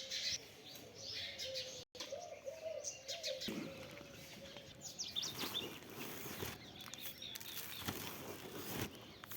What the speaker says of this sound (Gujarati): આપણે મોર, ઢેલ, કબૂતર કે મોર બધા અહીંયા આપણે દાણા ખાવા આવશે